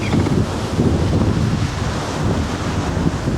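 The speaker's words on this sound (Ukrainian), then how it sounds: "Такий вітер сьогодні, ще їдемо проти вітру майже весь день." Strong headwind roars steadily against the microphone during a bicycle ride between Chernihiv and Nizhyn, Ukraine, a constant loud buffeting rumble with no pauses.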